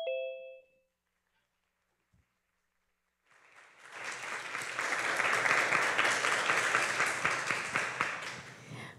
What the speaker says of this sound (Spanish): quiero que con un fuerte aplauso de corazón